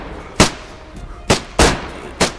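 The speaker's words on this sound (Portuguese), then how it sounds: "Tiro pra caralho." Four sharp gunshots crack in the video game DayZ at irregular intervals, loud and punchy, over a faint background hum.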